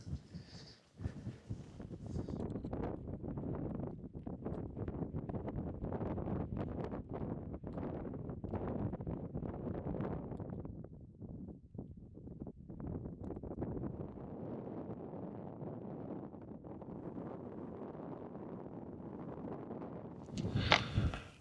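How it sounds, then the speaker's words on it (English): Steady wind roars and buffets a microphone on a Scottish mountain summit on the Quinag ridge in Assynt, loud and continuous for about twenty seconds, easing slightly midway and flaring with a gust at the end. "that wind is getting rather annoying"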